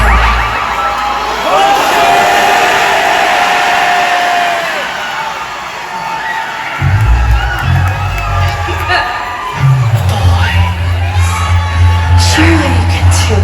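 A live rock show audience at a concert screams and cheers loudly in a sustained roar, with stage noise and low rumbling thumps joining partway through.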